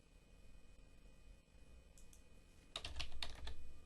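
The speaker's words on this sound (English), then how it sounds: "Or by pressing a shortcut key." A short burst of computer keyboard key presses, several quick clicks bunched near the end over a quiet room hum, close and moderately loud.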